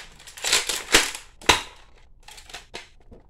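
Toy gun firing an eraser: a few sharp snapping clicks and cracks, close and fairly loud, spaced irregularly over a few seconds with brief rustles between.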